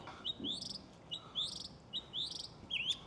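Repeated bright bird chirps and tweets in short bursts, four phrases spaced about half a second apart, fairly close over quiet background.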